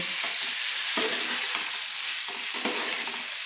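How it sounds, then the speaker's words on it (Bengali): Papaya and potato sautéed in spice masala make a loud, continuous sizzle, with a spatula scraping and stirring through the pan in rough, repeated strokes. "দেখুন আমি সুন্দর করে কষিয়ে নিচ্ছি"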